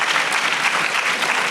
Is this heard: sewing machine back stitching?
no